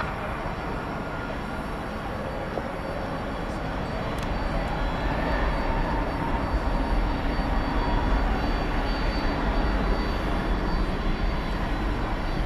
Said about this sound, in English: let's take a look at this UPS 767. Flight 765